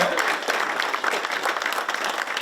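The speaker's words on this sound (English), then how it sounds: "I'll stop for the applause." An awards event audience breaks into sustained applause for an honoree, a dense, even clatter of many hands clapping at moderate volume, with no talk over it.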